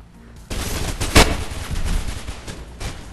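Pistol gunfire in Mirror's Edge heard as a loud, noisy stretch of shots with one sharp, prominent bang near the middle, fairly close and with no talking over it.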